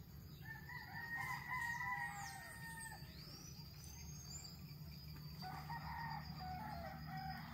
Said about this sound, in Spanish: qué espectacular, oigan los gallos,